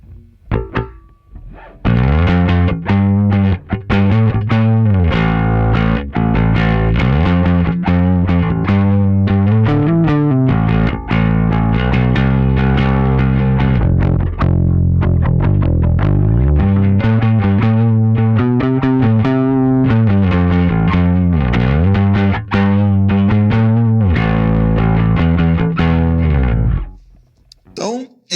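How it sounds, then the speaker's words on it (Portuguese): A bass guitar played through a first-stage drive pedal into a tube amp gives a heavily distorted, gritty tone. Busy notes and riffs run continuously for nearly half a minute. "esse é o som do drive de primeiro estágio que eu utilizo."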